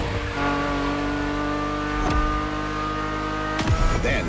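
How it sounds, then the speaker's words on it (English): A Ferrari F50's naturally aspirated V12 in The Crew Motorfest, a loud, steady drone with layered harmonics that holds near throughout, rising briefly with two quick revs or gear shifts, no voices. "The F50's core is a normally aspirated V12 that came straight from a Formula One."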